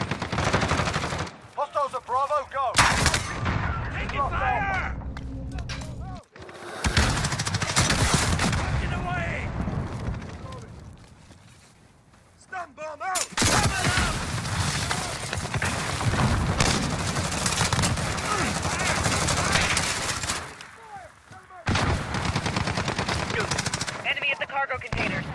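Sustained bursts of automatic gunfire in a shoot house team deathmatch video game, loud and dense with rapid overlapping shots, broken by short pauses, with voices calling out during the fighting.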